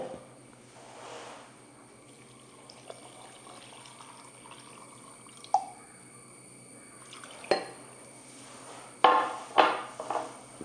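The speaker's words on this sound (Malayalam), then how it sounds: "അപ്പോൾ നമുക്കിനി ഈ വെള്ളം തിളപ്പിച്ചത് അങ്ങോട്ട് ഒഴിച്ച് കൊടുക്കുകയാണ്" Water drips and trickles quietly, then splashes in a few short pours near the end, as if filling a container close by.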